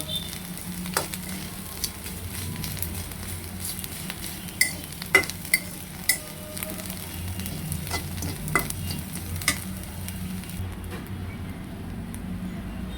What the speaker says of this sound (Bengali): মাছগুলো আমি সিদ্ধ না হওয়া পর্যন্ত ভেজে নিব